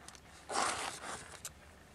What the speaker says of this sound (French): Donc je vais prendre mon masking tape.